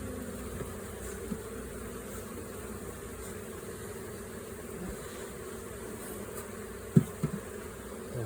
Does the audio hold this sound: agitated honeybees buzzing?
yes